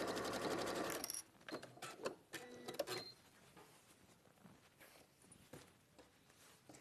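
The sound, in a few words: sewing machine sewing on the other side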